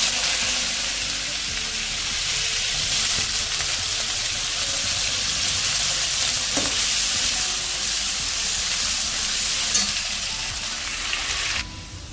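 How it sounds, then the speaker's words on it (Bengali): Potato pieces fry in oil tempered with five-spice seeds for a poppy-seed dish, producing a steady, dense sizzle that runs for about twelve seconds with occasional soft stirring knocks. "আলুটা একটু ভালো করে ভাজা হয়ে গেল"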